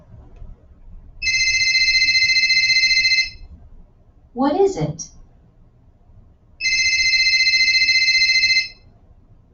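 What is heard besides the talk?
phone ringing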